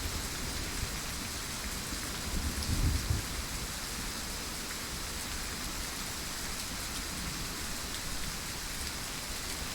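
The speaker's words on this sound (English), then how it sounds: "At least it's not repetitive thunder and lightning sounds." Rain pours steadily in the game Way of the Hunter, a constant wide hiss with a low, soft rumble of distant thunder rolling through briefly early on, and no speech.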